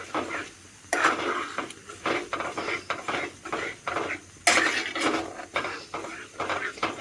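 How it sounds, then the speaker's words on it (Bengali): A spoon repeatedly scrapes and knocks against a pan as gram-flour batter is stirred without pause, in uneven rhythmic strokes at close range. "গোলাটা দিয়ে এবার কন্টিনিউয়াস কিন্তু এইভাবে নাড়াতে থাকবো"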